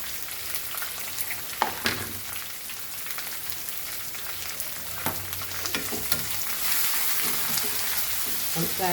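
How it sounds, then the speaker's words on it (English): Onion frying in a pan for Goan patal bhaji makes a dense, continuous sizzle with scattered pops and stirring scrapes, close and steady, growing slightly louder toward the end. "And fry this nicely."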